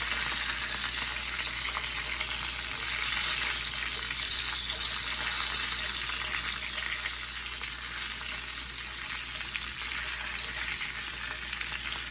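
Mexican street corn sears on a hot cooking surface, giving a continuous, even sizzle. The crackle is close and steady throughout, with no talking.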